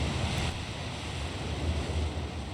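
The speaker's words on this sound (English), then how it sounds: "I heard the thunderous roar of rushing water." In the Aoi Shiro video game, water rushes through an opened floodgate, giving a continuous, even roar of broad rushing noise with no breaks.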